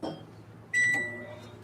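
A microwave oven running during a demonstration of wood and bolts inside it: a low steady hum, then a sudden sharp tonal buzz kicks in and lingers at moderate loudness, with no talk.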